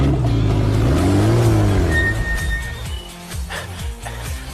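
A car engine revs and rumbles close by as the car is driven off to be parked, the engine note rising and falling before easing to a lower drone.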